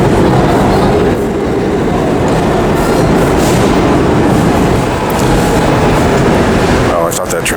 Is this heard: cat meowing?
no